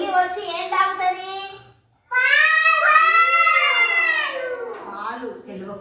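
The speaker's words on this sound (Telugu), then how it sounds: "ఇంట్లోకి పిల్లి వచ్చింది, పిల్లి వచ్చి ఏం తాగుతుంది?" Drawn-out, wavering meow cries of a cat ring out loud and close for several seconds after a short stretch of speech-like sound and a brief pause.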